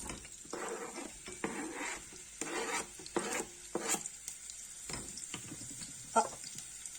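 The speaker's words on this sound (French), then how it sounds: "on va faire revenir nos oignons" Onions fry in a pan for a red pesto, heard as a quiet crackling sizzle broken by several bursts of scraping and stirring, with a sharp tap near the end.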